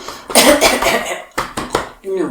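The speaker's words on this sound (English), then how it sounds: "and cough whatever you need out." Someone coughs to clear phlegm from the throat, a few harsh close bursts in a short run, each separated by brief pauses, during a breathing exercise lesson.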